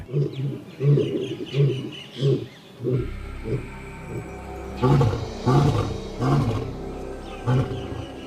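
A lion gives a long series of rhythmic, grunting roars, each one loud and near, while birds chirp faintly in the background.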